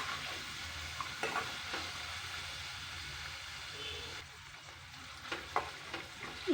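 Thinly chopped vegetables fry toward golden in a pan, giving a soft, continuous sizzle broken by occasional scraping stirs.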